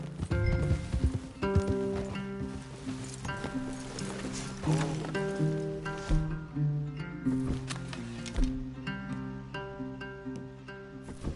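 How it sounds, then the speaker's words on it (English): Horse hooves clip-clop steadily amid layered music and ambient sound in a PS4 video game, with an occasional whinny. "Leave the horses in the trees there."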